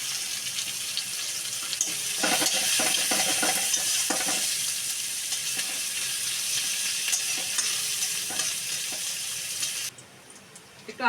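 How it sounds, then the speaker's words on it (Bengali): Chopped onion frying in oil with bay leaf and five-spice for a mashed pumpkin curry, a steady close sizzle with scraping stirs, running on with no talk before it drops off sharply near the end. "তেজপাতা, পাঁচফোড়ন দিয়ে একটু নাড়িয়ে নেব। কুচনো পেঁয়াজ দিয়ে দেব।"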